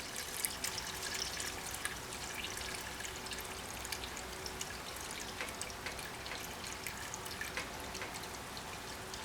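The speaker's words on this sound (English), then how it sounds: "I'm going to go ahead and add another jug of hot water into that" Hot water from a jug pours into a canning pot holding jars of whole tomatoes, a soft, steady, faint splashing and trickle that continues for several seconds without speech.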